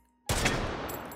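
A single loud semi-automatic gunshot cracks out in the VR game Hot Dogs, Horseshoes & Hand Grenades, a sharp close blast followed by a decaying echo.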